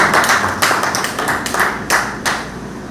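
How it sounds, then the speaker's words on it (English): A crowd at a launch event at the Creative Arts Centre in San Fernando claps steadily, a burst of applause with sharp hand claps rising and falling in loudness. "give her a round of applause"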